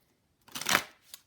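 Tarot cards being shuffled by hand, a quick papery riffle of about half a second after a short silence, followed by a fainter flick of cards.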